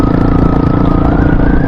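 A stock-engined Honda Hawk 250 motorcycle runs loud and close, a steady throbbing idle with a constant pitch and no voices.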